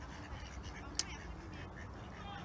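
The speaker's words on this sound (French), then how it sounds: "Les canards, c'est une baston, là." A duck gives a single short, sharp quack in the middle of a noisy outdoor scene on a mild spring day, where a group of ducks is scuffling. The call is brief and moderately clear over a steady low background murmur.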